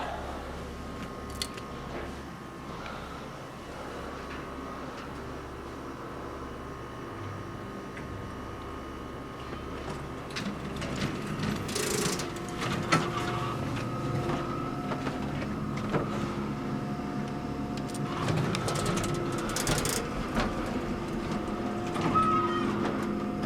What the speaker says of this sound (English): Pretty standard small elevator.